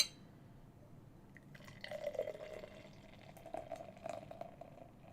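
Liquid trickles slowly into a glass during a drawn-out five-minute pour, a faint, steady thin stream with soft splashing that swells slightly partway through, and no talking.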